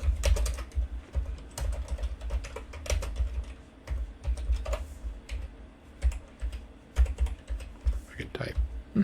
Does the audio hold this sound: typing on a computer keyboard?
yes